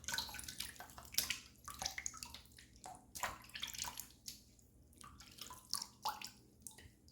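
Running water splashes and drips as a razor is given a quick rinse under the tap, with irregular close splashes and trickles and no voices.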